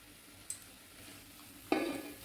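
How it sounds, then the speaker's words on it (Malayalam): Beef tipped into a hot pan of onions for a Kerala-style curry, giving a sudden loud sizzle and clatter near the end after a quiet stretch with one small earlier clink. "ഇനി ഇറച്ചി നമ്മൾ തട്ടിക്കൊടുക്കും"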